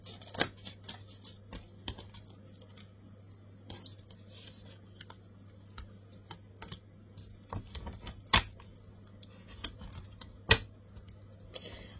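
Tarot cards being shuffled and handled for a love reading, soft scattered riffles and taps repeating across the stretch, fairly faint and with no talk over them.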